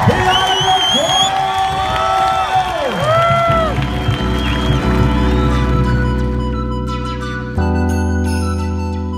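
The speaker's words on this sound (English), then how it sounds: "a round of applause for your host, delegate, the Island of Guam!" Festive crowd at the Festival of the Pacific in Guam cheering with whoops and applause, layered over sliding jingles and then sustained droning music tones, loud and busy throughout.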